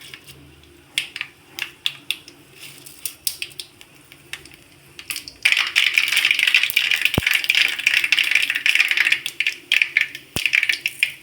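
Mustard seeds dropped into hot oil for Indian mango rice set off a dense, loud crackling sputter that starts abruptly partway through after quieter scattered clicks, with no talking over it.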